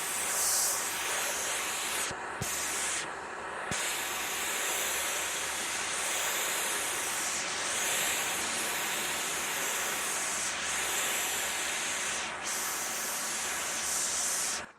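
A garden hose sprays water steadily onto plants to wet them before pressure washing, giving a close, continuous hiss with brief dips as the stream shifts, with no talking.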